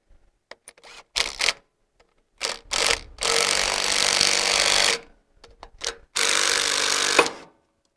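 An impact tool drives a puller to free the flywheel from a Briggs & Stratton twin engine on a Murray mower, heard as short buzzing bursts followed by two longer, loud rattling runs with brief gaps between them.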